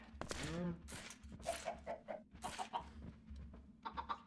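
Minecraft chickens cluck repeatedly in short bursts, fairly close, with a low steady hum underneath and some voice-like sounds mixed in.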